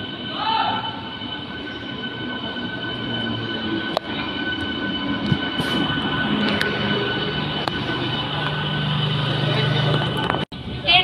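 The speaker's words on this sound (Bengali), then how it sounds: "1 নম্বর প্ল্যাটফর্মে ট্রেন এসে গেছে" A train at a railway platform in Srinagar makes a steady rolling rumble with occasional sharp clanks and metallic squeals, continuous and moderately close, with faint background murmur.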